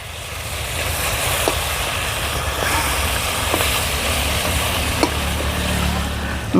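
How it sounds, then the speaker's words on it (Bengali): Steady oily sizzling of a rohu fish head frying in a pan, continuous and close, with a few soft clicks of a utensil. "মাছের মাথাটা ভেজে নিচ্ছি"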